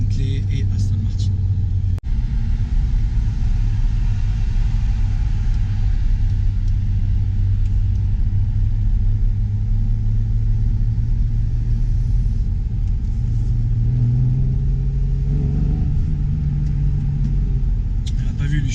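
An Aston Martin Vantage or Ferrari Testarossa drives steadily, its engine giving a continuous loud rumble that rises slightly in pitch toward the end, with no talk over it.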